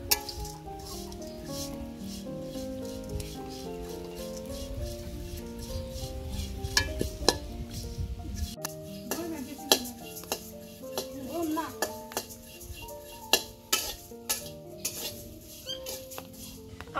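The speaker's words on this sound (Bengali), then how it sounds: "এখন চিরা দিয়ে দিব।" Flattened rice (chira) is fried and stirred in a hot wok, with steady scraping and clattering of a spatula against the pan and light sizzling, heard under background music.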